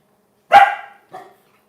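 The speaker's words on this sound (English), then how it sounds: "hold on, sorry, my dog's barking" A dog barks twice nearby, a loud sharp bark followed a moment later by a shorter, softer one, with no other sound around them in a small, cramped room.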